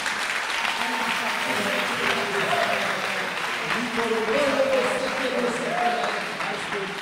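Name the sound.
congregation applauding in church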